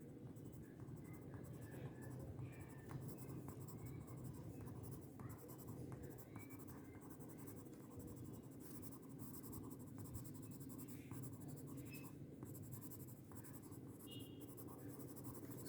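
A colored pencil shades a jackfruit drawing in light green, giving a steady, close scratchy rasp of lead on paper with soft repeated strokes throughout.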